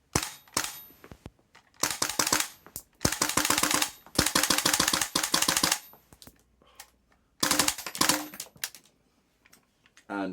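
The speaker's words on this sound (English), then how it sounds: "Let's shoot a couple of rounds off" A Tokyo Marui MWS airsoft rifle fitted with a modified PMag fires in several rapid bursts of sharp, clattering shots, each burst lasting a second or two, separated by short pauses and mechanical clicks.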